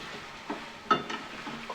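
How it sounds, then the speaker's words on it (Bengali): Chicken cooks in a pan with onion paste and spices, giving a soft, faint sizzle broken by a few light scraping stirs over a short stretch. "2-5 মিনিট আমি এইভাবে মশলার সঙ্গে মানে পেঁয়াজ বাটার সঙ্গে চিকেনটাকে ভালোভাবে কষবো"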